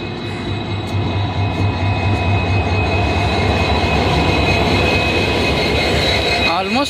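A passenger train crosses the sea bridge from Mandapam to Pamban, heard from on board as a loud, steady rumble of wheels and carriage. A faint squeal rises near the end, and a voice is briefly audible.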